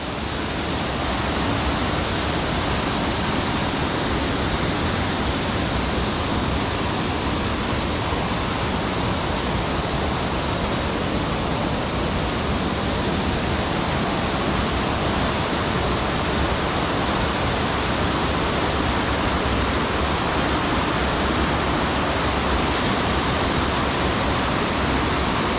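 Steady, broadband rush of the waterfall at Harmby, heard from under the cover of trees during rain, a continuous dense roar with no let-up and no voices.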